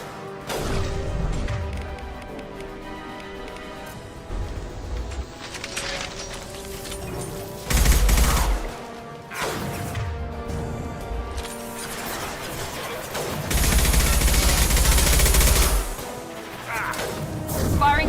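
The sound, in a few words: gunfire in the video game Mass Effect 2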